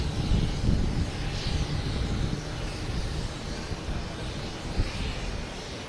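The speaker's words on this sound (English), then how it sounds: "We have Delta coming in from Salt Lake City and A321 Neo." A Delta Airbus A321neo arriving at Boston Logan Airport, heard as a steady broadband jet roar that stays loud and even across the whole stretch, with no talking over it.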